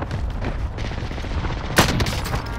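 A sniper rifle shot rings out in a video game, one sharp loud crack near the end over a constant busy game-sound bed.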